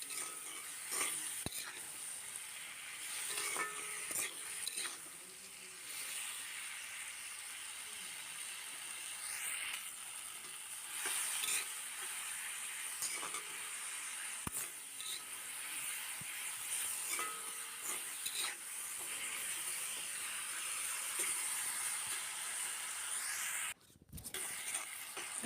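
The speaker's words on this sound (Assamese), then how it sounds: "এতিয়া বিলাহীখিনিও মই 2 মিনিটমান ভাজিম, মানে সিজি যোৱালৈকে ভাজিম" Tomatoes fry in a new iron kadai while fish is cooked, a steady soft sizzle with occasional scraping and stirring clicks and one sharp clatter near the end, no voices.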